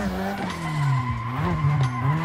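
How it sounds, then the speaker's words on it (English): A car's tires skid and squeal through a handbrake drift in the Assetto Corsa racing game, a 200SX with a wavering high screech over a steady engine drone that holds for the whole stretch. "Nice little handbrake action."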